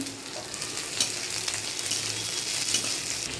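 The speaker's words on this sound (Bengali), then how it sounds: "পেঁয়াজগুলো একটু লাল লাল করে ভেজে নেব। এবার টমেটোটা দিয়ে দিচ্ছি" Onions and tomato fry in oil in a pan, giving a steady, soft sizzle with light crackles and a few faint stirring clicks.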